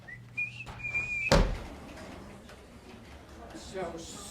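A short whistled melody with a few sustained notes early on, followed by a sharp knock or thud, then quieter room noise.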